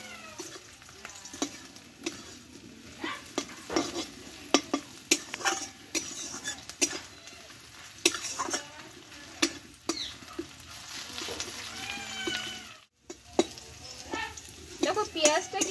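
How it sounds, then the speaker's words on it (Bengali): Onion and garlic fry in hot oil for a Bengali tomato bharta, a steady crackling sizzle broken by frequent sharp stirring scrapes and clinks, with a few brief high cries that may be a cat nearby. "পেঁয়াজ আর রসুনটা যত ভালোভাবে ভাজা হবে"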